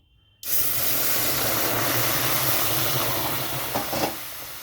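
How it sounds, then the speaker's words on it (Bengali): Water rushes onto fried lentils in a pan after a short silence, a loud sudden hiss that holds steady and then eases slightly toward the end. "এখন এটা জল দিয়ে ধুয়ে নেব এখানে আমি জল দিয়ে দিচ্ছি"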